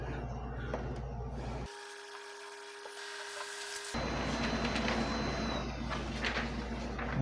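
A Brother DCP-L2540dw laser printer prints a test page during setup, with a mechanical hum and whir that shifts pitch partway, then rising feed and rubbing noise from the paper path, close by with no talk.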